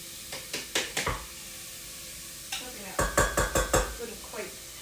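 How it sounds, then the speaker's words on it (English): Onions and garlic sizzle steadily in a frying pan for lentil dhal. Two quick runs of sharp scraping stirs cut through the hiss. "I can hear that sizzling back here"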